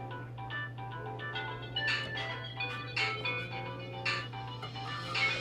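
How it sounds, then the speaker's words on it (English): A mobile phone rings beside an arcade machine repair bench during circuit board soldering work, a steady, repeating electronic ringtone melody playing alone at moderate loudness. "That's my phone."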